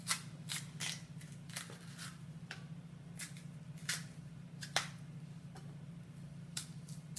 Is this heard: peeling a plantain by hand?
yes